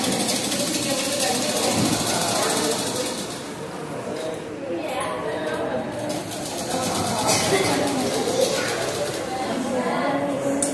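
A sewing machine runs steadily with a droning motor hum, stitching continuously at a moderate level while a person talks over it.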